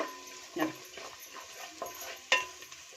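Raisins and mixed dry fruits frying in a pan for Ramzan sheer kurma, giving a soft steady sizzle with a few sharp scrapes and clinks of stirring near the mic.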